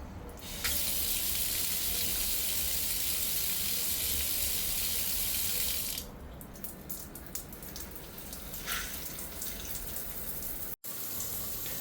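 Water runs loudly and steadily from the foot shower tap on a Parkside solar-powered garden shower, splashing in a continuous hiss that shifts and softens midway before briefly cutting out near the end.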